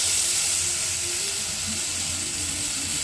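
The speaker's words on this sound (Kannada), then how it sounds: "ಇವಾಗ ಇದಕ್ಕೆ ಟೊಮೆಟೊ ಹಾಕೋತೀನಿ, ಕಟ್ ಮಾಡ್ಕೊಂಡಿರೋ ಟೊಮೆಟೊ" Chopped tomatoes sizzle loudly in a hot pan, a steady hissing fry that holds unbroken and close throughout.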